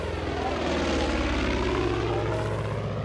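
Propeller plane flying overhead in the video game Far Cry 5, a loud, steady droning engine buzz with a pulsing propeller beat, close and continuous with no talk.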